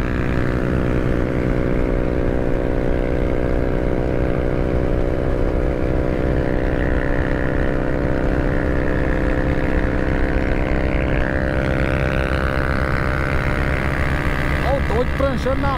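Suzuki DR160 motorcycle engine under hard riding among tuned bikes, a loud, close, steady drone with climbing pitch as it revs up and holds high speed, with no break for the whole stretch.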